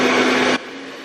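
A hair dryer set to hot blows a loud, steady broadband whoosh, then drops abruptly to a softer, lower-powered hum about halfway through.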